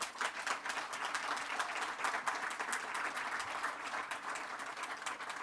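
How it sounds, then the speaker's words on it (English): An audience at a silver jubilee celebration gives sustained applause, dense steady clapping from many hands filling the room without a break, heard at a moderate distance. "can I ask that we please give a warm round of applause to everyone involved at STIAS for the last 25 years"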